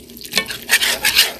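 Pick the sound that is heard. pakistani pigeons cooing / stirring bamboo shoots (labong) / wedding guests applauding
stirring bamboo shoots (labong)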